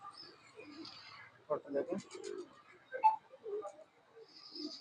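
Pigeons coo in soft, low, throaty phrases close by, with a few brighter chirps mixed in, while someone talks quietly alongside them.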